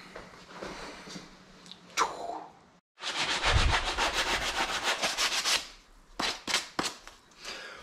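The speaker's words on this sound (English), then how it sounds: "We're going to sand these tips flat so that there's not any wood pieces to mess things up with the bands" Sandpaper rubs the tips of a homemade wooden slingshot flat, heard up close as a rough scratchy stretch of quick back-and-forth strokes, then a few short separate swipes.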